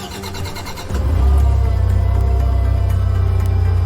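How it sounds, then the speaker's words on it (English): A car engine is started with the key: a short starter crank gives way to a loud, steady idle rumble close by, with no talk. "When you turn on the key and start the engine,"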